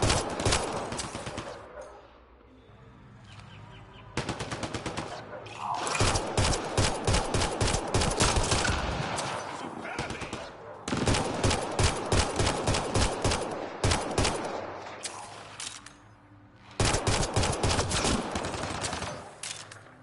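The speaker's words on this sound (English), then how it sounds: "I gotta put a couple bullets in it." Sustained gunfire in Mass Effect: Andromeda, long bursts of rapid automatic shots in several loud volleys separated by short pauses, close and dominant throughout.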